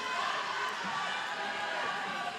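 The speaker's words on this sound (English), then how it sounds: "As the Shalhevet Firehawks crowd is back in it, they're roaring." The Shalhevet Firehawks home crowd roars steadily at a girls' basketball game against Berman, a dense wash of cheering and shouting voices filling a gym at constant, loud level.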